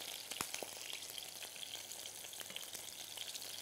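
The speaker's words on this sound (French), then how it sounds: "on les fait cuire dans une grande poêle" Samosas filled with fresh goat cheese frying in oil in a large pan, a steady close hiss and crackle of sizzling with a few soft pops, continuous and fairly quiet throughout.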